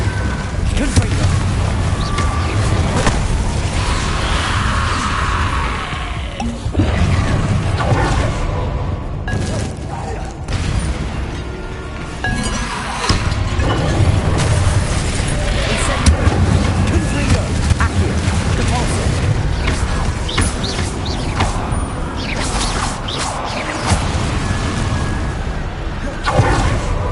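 Repeated explosive spell blasts from the Confringo fire charm in Hogwarts Legacy, deep booms and bursts recurring through a busy battle soundscape, with a voice speaking intermittently underneath.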